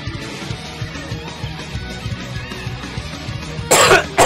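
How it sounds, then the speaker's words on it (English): Two sharp, loud coughs burst out near the end after a stretch of quiet background murmur. "Sorry, I coughed."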